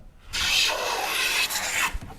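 A hand plane rasps along a bowed wooden board for a Shaker Enfield cabinet, one close, continuous shaving stroke that fades out at the end.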